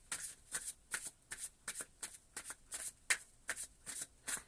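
Tarot cards being shuffled in about eleven quick, evenly spaced riffling bursts, close and crisp, with no talking.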